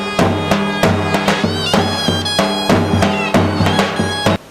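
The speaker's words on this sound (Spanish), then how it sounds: "y la zurna, que es esta flauta que tenéis aquí y que suena así" A zurna, a Turkish double-reed pipe, plays a loud, bright, reedy melody over steady booming davul drum strokes, both close and in continuous rhythm.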